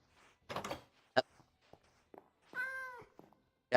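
A cat meows in a drawn-out, tonal cry near the end, preceded by scattered thumps and brief noises, close and moderately loud against a quiet room.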